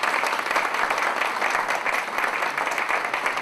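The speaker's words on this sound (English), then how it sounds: "Please give him a round of applause." An audience at a college gathering claps steadily for the chairman of the Board of Trustees, a full, even wash of applause lasting several seconds with no talk over it.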